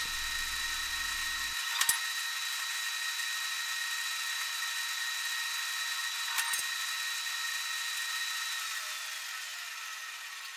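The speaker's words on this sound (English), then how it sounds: "flip the lever, make my cut, and I'm able to quickly cut 16 pieces of this angle material" An ironworker machine cuts steel angle stock, its motor holding a steady high whine while two sharp shearing clunks ring out several seconds apart.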